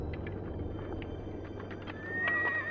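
A horse gives a high, wavering whinny near the end over a low, steady background rumble, with faint hoof or rustling sounds before it.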